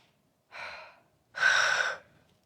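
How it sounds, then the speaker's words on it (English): A person yawning during a spoken meditation, two breathy exhales close to the microphone, the second one longer and louder, with quiet in between. "Okay, I started yawning already"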